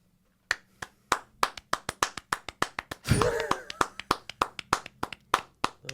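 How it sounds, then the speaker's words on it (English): Three tipsy podcast hosts give a slow, polite golf clap: soft, evenly spaced handclaps ticking along steadily, broken briefly midway by a burst of louder noise before the sparse claps resume. "Golf clap."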